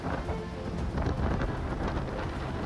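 Strong winds and rain from Typhoon Matmo striking the southern China coast roar as a dense, continuous rush of gusting air with rain noise and heavy buffeting on the microphone.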